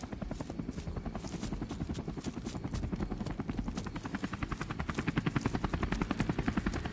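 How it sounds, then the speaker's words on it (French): A helicopter in Call of Duty 4 Remastered makes a loud, steady, rapid rotor thump that pulses evenly throughout, with faint gunfire-like crackle mixed in. "Et là, l'hélico se prend une grosse roquette dans la gueule."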